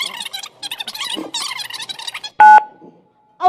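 A mobile phone sounds a short burst of dialing tones, a single loud keypad beep after fast overlapping talk in a comedy scene, followed by a steady faint tone.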